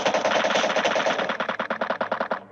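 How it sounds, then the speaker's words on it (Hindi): Rapid automatic gunfire in a video game is aimed at the player, a loud continuous burst that breaks into separate quick shots toward the end. "जब मैं ओपन में जाता हूँ तो देखो आप क्या गंदा फायर करते वो मेरे पे"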